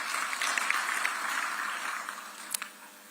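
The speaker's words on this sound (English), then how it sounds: "A round of applause." An audience at an African Union session applauds, a continuous wash of clapping from a crowd that slowly eases off, with a couple of louder claps near the end.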